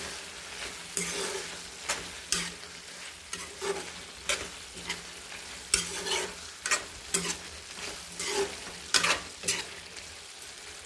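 Liver frying in a pan with pepper powder and dried red chillies is stirred with a spatula, sharp scraping strokes landing roughly once a second over a steady background sizzle.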